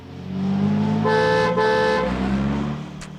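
A loud, close car horn sounds in a sustained blast with a brief break in the middle, a second honk following at once, over a low engine rumble on the road.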